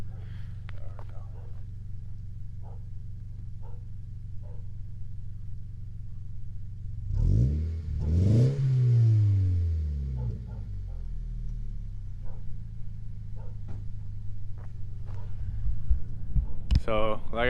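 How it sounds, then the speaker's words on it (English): A car fitted with a Borla catback exhaust idles with a deep rumble, then revs up sharply once and settles back, with a person talking faintly at points around it. "what makes this car sound so nice is it has this Borla catback"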